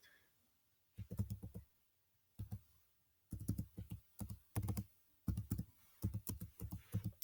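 Bursts of fast keyboard typing, clicking in quick runs separated by short pauses, close and fairly loud, entering library card details into an app.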